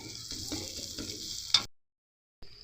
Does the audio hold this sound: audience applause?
no